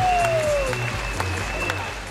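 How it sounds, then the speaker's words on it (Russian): An audience applauds at a dance marathon event at Luzhniki in Moscow as the jury takes their seats, a steady, moderately loud wash of clapping lasting about two seconds with a faint tone running underneath. "Под ваши бурные аплодисменты наши жюри занимают свои места."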